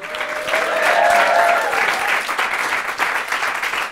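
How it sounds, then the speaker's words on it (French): Studio audience applauding at a French television talent show, a dense, loud wash of clapping with some crowd cheering, steady for about four seconds and easing slightly toward the end. "Je vous demande, mesdames et messieurs, sous vos applaudissements"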